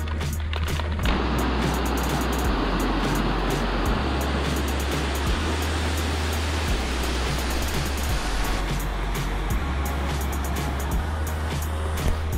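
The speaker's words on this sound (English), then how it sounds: "That's some good flowing water." Water pours through a freshwater spillway in a steady, loud, continuous rushing roar that holds level throughout, with low rumbling underneath and no voices.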